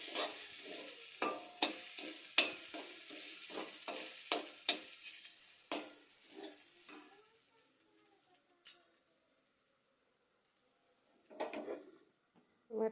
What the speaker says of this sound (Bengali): ডালটা কষাচ্ছি